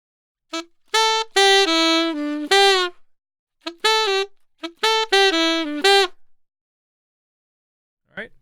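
A solo saxophone plays short phrases, a couple of detached notes followed by smoothly connected ones, with pauses between the phrases.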